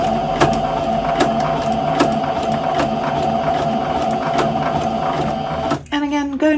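A sewing machine stitches fabric in a steady mechanical whir with regular ticking needle strokes; near the end a voice begins talking over it.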